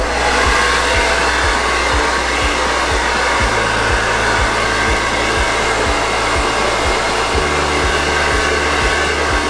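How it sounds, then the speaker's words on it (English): Regular hair dryer on its lowest setting blowing steadily to warm chocolate, a continuous close whirring hiss with a slight low hum, running alone throughout. "I use my own hair dryer. Just a regular one would be fine, and I turn it to the lowest setting"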